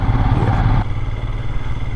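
A motorcycle carrying luggage climbs a high mountain pass road from Leh toward Khardung La, its engine chugging steadily and loud up close with wind rush.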